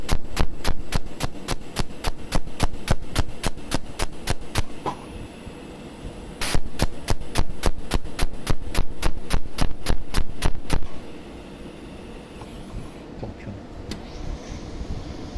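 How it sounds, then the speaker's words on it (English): An Sz-1800 sealing machine welding in continuous mode gives a loud, rapid, evenly spaced train of sharp clicking pulses that stops briefly midway, resumes, then falls away to a quieter hum. "I operate Sz-1800 by continuous welding mode."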